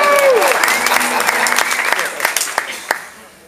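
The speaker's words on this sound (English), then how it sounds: "Clap now." Audience applause at a Jazz Fest 2011 interview, a dense burst of clapping that starts loud and slowly thins and fades over a few seconds, with scattered sharper claps near the end and some voices mixed in.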